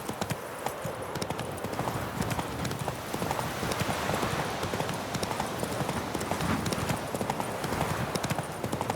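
Roach the horse from The Witcher III: Wild Hunt gallops in a steady, loud, rapid clip-clop of hooves that carries through the whole stretch, with faint ambient game sound beneath.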